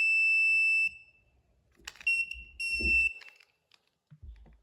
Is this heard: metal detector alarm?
yes